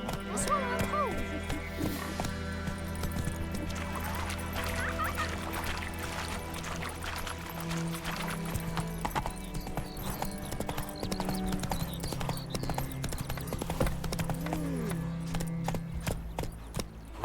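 Galloping horse hooves from The Witcher 3 video game clatter in a steady rhythmic clip-clop over a humming game soundtrack, with brief whinnies and a voice speaking at times.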